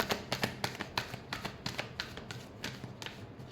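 Tarot cards are shuffled in a quick, uneven rhythm of soft flicks and taps, close and fairly quiet, with no talking.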